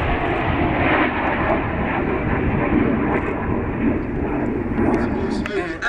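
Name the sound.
Red Arrows jet aircraft flying at airshow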